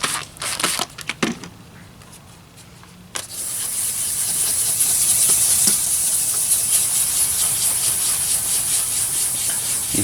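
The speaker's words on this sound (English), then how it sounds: "You can hear the sound difference too when you're sanding that heavy oxidation there." A fogged car headlight lens is sanded to remove heavy oxidation. Scattered scrapes come first, then a steady, loud, hissing rub of abrasive on plastic that runs on without pause.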